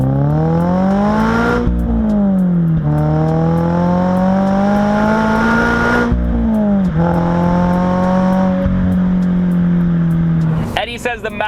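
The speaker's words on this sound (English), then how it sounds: "It's a very similar tone to the stock car, but just a bit more decibels at the high res with the occasional nice little pop from the exhaust." A modified 2022 Subaru BRZ with an ARC exhaust revs repeatedly, its engine note climbing and dropping in long loud sweeps, closing with a burst of crackling exhaust pops.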